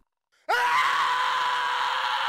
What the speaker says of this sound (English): I'm told you should stop screaming in a year or two